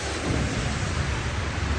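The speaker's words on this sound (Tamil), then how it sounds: "ஐயோ, பயங்கர மழை வந்துட்டுருக்கு" Heavy rain pours on the Mumbai-Goa highway with rumbling thunder beneath, a loud, dense and steady downpour roar with no voices over it.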